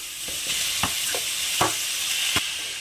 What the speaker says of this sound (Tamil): வெங்காயத்தை நல்லா வதக்கி எடுத்துக்கலாம்